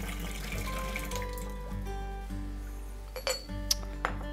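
Water and tea poured out of a teapot splash and trickle into a sink, with light clinks of china and glass, close by and fairly quiet.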